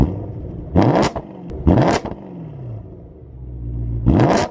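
A BMW E92 M3 with a 2.25 back box exhaust modification revs hard three times nearby, each sharp rise dropping back to a deep rumbling idle between blips.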